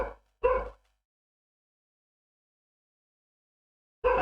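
Dogs in a room give a couple of short, loud barks close by, then go silent until one more bark cuts in at the end.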